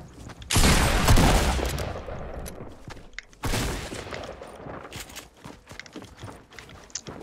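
Pump shotgun blasts in the Fortnite battle royale game, two loud booming shots a few seconds apart with a sharp attack and rumbling tail, followed by quieter scattered in-game clicks and rattles.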